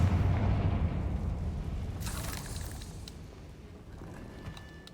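A Confringo spell detonates in Hogwarts Legacy with a deep rumbling boom that fades over several seconds, with a bright crackling burst partway through, no voices.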